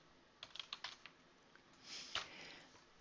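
Typing on a computer keyboard in a message window: a quick burst of light key clicks, then a brief pause and a few more taps, faint and close with no talk.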